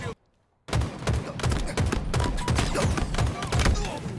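Gunfire in the Halo Infinite video game: a short silence, then rapid repeated shots crack out loud and close in a dense, uneven burst that runs to the end.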